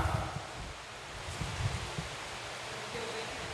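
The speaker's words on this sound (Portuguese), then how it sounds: "O vento tirou aqui a página." Wind gusts past an open Bible during a reading, and its pages rustle and flutter in a steady, fairly loud broadband rush with a low rumbling undertone and no talking.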